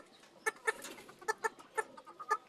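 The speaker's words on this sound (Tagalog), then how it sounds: "Micro hen. Mas maliit pa po yan sa serama din." A micro bantam hen clucks in short, sharp bursts, about ten clucks spaced irregularly, close and fairly clear with no talking.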